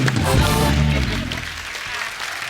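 A studio audience at a comedy show applauds the whole Panga team, a steady wash of clapping heard under a loud voice and music at the start.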